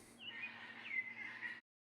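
A faint bird-call sound effect, previewed while designing a cinematic world, gives a soft continuous run of thin chirping tones over a low hum, then cuts off abruptly.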